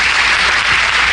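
A church congregation claps at a sermon: a brief, dense wash of applause, steady and loud throughout with no voices over it.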